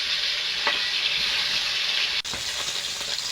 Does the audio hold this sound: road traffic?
no